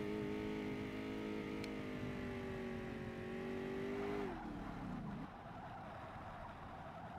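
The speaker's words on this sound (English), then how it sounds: "You're in the red line, you can hear the engine." A Ford Mustang engine in the Forza Motorsport racing game screams at high, steady redline revs, then the pitch drops sharply as a gear change cuts in, leaving a lower, rougher drone.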